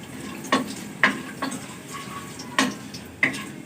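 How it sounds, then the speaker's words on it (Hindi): Nigella seeds fry gently in a pan under a soft, steady sizzle, broken by a few sharp spatula taps and scrapes against the metal at close range, with no voices. "ये जी हमारे हो रहे हैं दोनों चीजें फ्राई"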